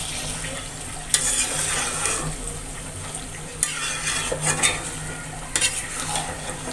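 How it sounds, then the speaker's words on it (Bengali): Beef for a jhuri bhuna stirred and fried in a pan, a steady oily sizzle with sharp scraping strokes of the spoon roughly every two seconds, close and moderately loud, no voices. "এটা এখন ভেজে আস্তে আস্তে একদম কালো ভোনার মতো কালো করে নিব"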